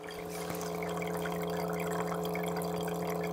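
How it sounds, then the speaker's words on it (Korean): A decorative donut-puffing humidifier runs close by, its water trickling softly over a steady electric pump hum, quiet and continuous with no one speaking. "이게 물이 졸졸졸졸 흐르는 소리가 듣기 싫은 소리는 아닌데 이게 펌프 소리가"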